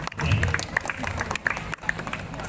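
Crowd applause at a Balinese comedy show, a moderate round of clapping mixed with crowd noise and scattered voices, continuing briefly at an even level.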